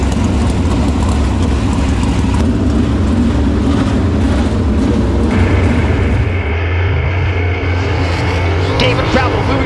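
Race car engines roaring at a speedway during an engine heat, loud, dense and continuous, with engine tones shifting as the cars pass and a voice faintly underneath.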